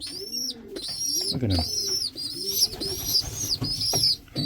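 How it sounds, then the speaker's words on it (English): Small pet birds coo softly and repeatedly nearby, their low burbling calls overlapping with brief chirps while a person speaks over them. "Nice little birds."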